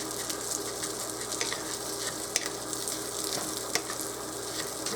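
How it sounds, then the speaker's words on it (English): Brown rice browning in a pan on a stovetop gives a steady, close sizzle with frequent light scraping and ticking taps from stirring. "So you're just going to brown this rice real good."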